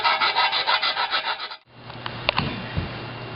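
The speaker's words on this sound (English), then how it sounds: "inspect around the outside of the pipe for burrs and give it a little filing if there's any burrs there" Rhythmic rasping strokes of a file clean burrs off a Flowmaster exhaust tailpipe for a 2003 Mustang Mach 1, about a dozen close strokes, then they stop and a few faint clicks follow.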